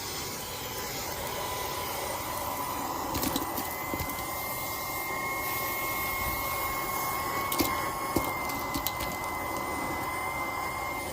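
A Fanttik handheld cordless car vacuum with its crevice tool running on household stairs, giving a steady high whine and airy hiss throughout, with faint bumps and clicks as it works the steps.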